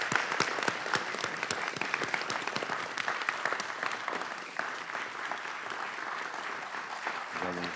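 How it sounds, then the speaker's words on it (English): Sustained audience applause at a Fulton County, Georgia board of commissioners meeting honoring sheriff's office and marshals staff, a dense steady wash of many hands clapping throughout, fairly loud and continuous, tapering slightly near the end. "Let's give them a round of applause."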